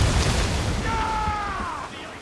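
Naval cannon fire in the Assassin's Creed Rogue video game: one deep booming blast with a rolling rumble during a ship battle, and a whistling tone trails through the middle of the decay.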